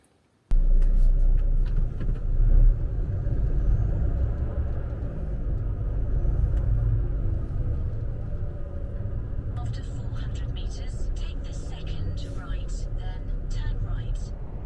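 A long-haul truck drives along the road with a heavy, constant rumble of engine and road noise that starts abruptly and holds steady, with brief ticking and rattling sounds in the cab toward the end.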